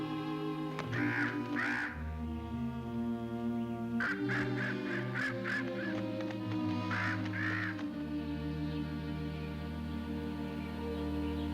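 A crow caws in several bursts of harsh calls, clear and fairly close, over a steady tonal background of music or ambience, with no speech.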